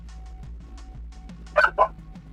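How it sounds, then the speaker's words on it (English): A dog gives two quick, loud barks in close succession, near and clear over a low steady background hum, with no talking. "Woof, woof, woof."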